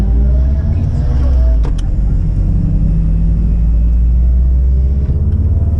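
A Subaru WRX STI on a race track gives a loud, deep, steady engine rumble that holds throughout, heard from close range with a faint higher whine above it.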